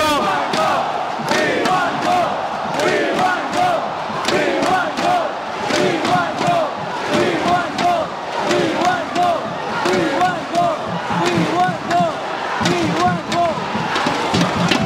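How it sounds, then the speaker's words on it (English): Stadium crowd at a 2022 AFF Mitsubishi Electric Cup football match between Singapore and Vietnam, a dense, loud roar of chanting and shouting with rhythmic bursts sustained throughout. "Look at the crowd."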